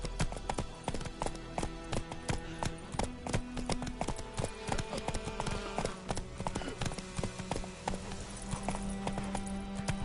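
Horse hooves clip-clop steadily in The Witcher 3: Wild Hunt on PS4, a brisk, continuous rhythm of close, moderately loud hoofbeats layered over ambient game sounds and tonal hums throughout.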